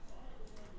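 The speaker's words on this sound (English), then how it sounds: "There is one more vocal chop pattern that I added which sounds like this." A chopped vocal pattern from a pop production: short, pitched vocal fragments with bright airy bursts, fairly quiet and steady over a low bed, with no spoken voice.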